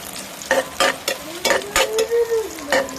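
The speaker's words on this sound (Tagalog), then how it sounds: "tamang mixing ng garlic, onion at ng luya" Garlic, onion and ginger stirred and sautéed in a hot pan, with steady frying sizzle broken by repeated scraping stirs of a utensil, about six strokes in quick succession, close and fairly loud.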